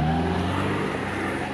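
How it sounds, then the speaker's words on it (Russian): A Chevrolet Niva off-road car climbs a rough mountain track, its engine droning loud and close in a steady strain. "Шевик смог, шевик едет."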